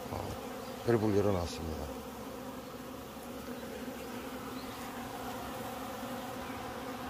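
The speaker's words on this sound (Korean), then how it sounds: "제가 올라와서 한 차례 말벌을 잡았고요." Hornets buzzing around a hornet trap at a beehive, a dense continuous drone of many wings, close and steady, with a brief spoken remark near the start.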